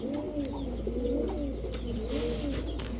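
Giribaz high-flyer pigeons coo in a steady, overlapping chorus of low, rolling calls, close by and continuous, with faint chirps above and no talking.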